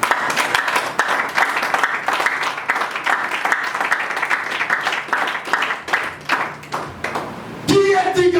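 Church congregation applauding together, dense continuous clapping that swells and dips for most of the stretch, then gives way to a voice and louder music near the end.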